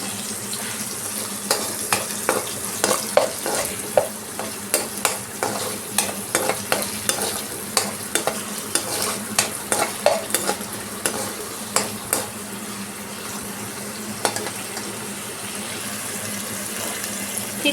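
Ginger paste sizzles in a pan as it is stirred, a steady low frying hiss broken by frequent sharp scraping strokes of the spoon at an even pace.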